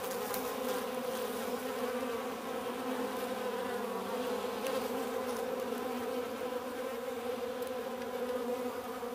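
Bees buzzing steadily around a wheel bug hunting them, a continuous layered drone of several insects close to the microphone, holding level for the whole stretch with no voices.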